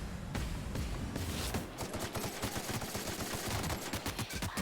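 Gunfire in The Outer Worlds, a sci-fi role-playing shooter, comes as repeated shots against a dense background of game noise, moderately loud and steady for several seconds with no voices.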